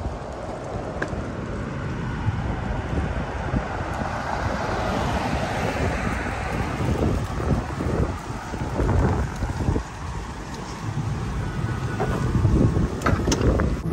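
Steady, loud wind buffeting a microphone outdoors, a broad rumbling roar that gusts and swells throughout with no voices over it.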